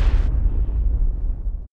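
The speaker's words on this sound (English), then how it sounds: "along with a whole bunch of explosions" A loud, deep explosion effect made for a Skyrim dragon shout, a single heavy boom that rumbles on for under two seconds before cutting off abruptly, with no voices.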